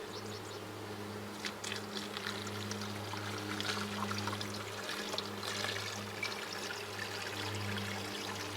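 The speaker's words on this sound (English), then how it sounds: "I'm gonna pour some sugar water in." Sugar water pours steadily into a beehive feeder during a honeybee hive inspection, a soft continuous trickle over a low steady hum, close and fairly quiet with no talking.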